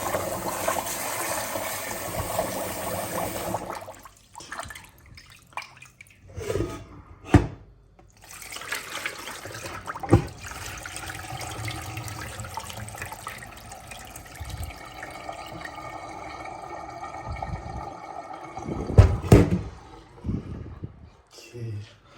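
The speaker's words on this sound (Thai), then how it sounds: "ล้างข้าวในน้ำเย็นอีกทีหนึ่งนะฮะ" Sticky rice is washed in cold water under a running tap, giving a continuous close splashing and trickling with some louder sloshes and brief pauses as the grains are rinsed.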